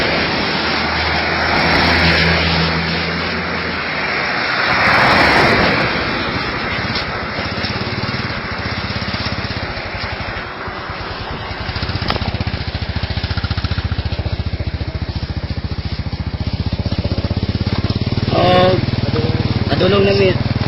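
A motorcycle engine runs continuously during a ride along a highway, a loud steady drone with wind rush and shifting pitch, while people talk over it.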